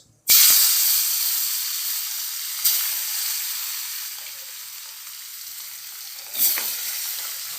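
Rohu fish pieces dropped into hot oil, with a sudden loud sizzle that settles into steady frying hiss, and later bursts as more pieces go in.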